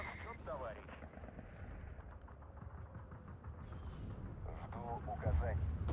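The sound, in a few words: aircraft strafing gunfire in the video game Steel Division 2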